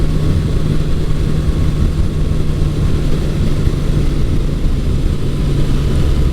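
A 1982 Suzuki GS750E motorcycle engine runs steadily on a cold-day test ride after carburetor work, a continuous loud drone with a constant low hum and road and wind noise, no speech.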